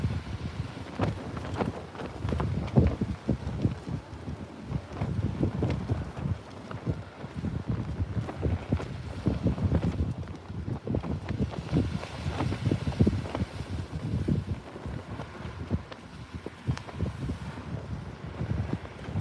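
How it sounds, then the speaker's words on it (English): Strong wind buffeting a beach during sea fishing in West Sussex, a loud continuous low rumble and gusting roar across the microphone, no voices. "That wind's picking up, my god."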